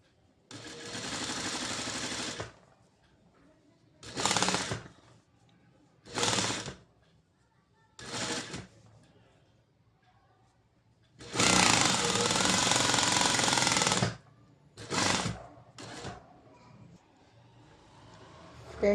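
A sewing machine runs a stop stitch on the main fabric over the lining in separate bursts, a long run at the start and a longer one later, short stitching spurts between, with quiet pauses.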